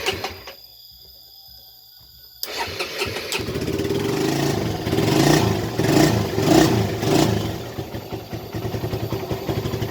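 A Suzuki Satria FU motorcycle engine, fitted with a substitute starter bendix from a moped, is cranked by the electric starter after a quiet pause, catches and runs with a close, loud, uneven idle and brief revs.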